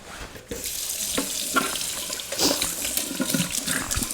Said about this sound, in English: I'm gonna just rinse this off really quickly.